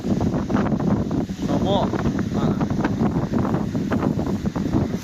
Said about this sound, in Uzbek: Buni qaranglar, shamol.